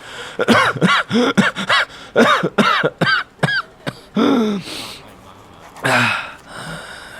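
A person coughs repeatedly in harsh bursts, then clears the throat and draws strained, wheezing breaths, close and loud.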